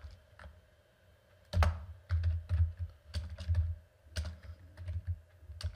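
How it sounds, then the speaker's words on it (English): Computer keyboard keys clack in uneven bursts of taps, close and moderately loud, with short pauses between runs and no speech. "Oh, I have a hard time typing."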